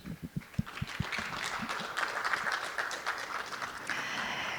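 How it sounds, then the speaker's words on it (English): An indoor ceremony audience breaks into applause: a few distinct claps first, then a steady, moderately distant wash of clapping that carries on evenly to the end. "please give all of our attendees another big round of applause"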